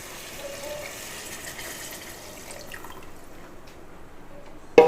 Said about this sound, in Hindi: आधा लीटर पानी डाला है।